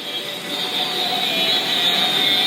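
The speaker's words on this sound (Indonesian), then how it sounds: "Tiba-tiba ada pesawat pengepung, ya, yang hilir mudik ke sana kemari" Military aircraft pass back and forth overhead during wartime, a steady, rushing jet drone that holds at an even, fairly loud level throughout, with no voices.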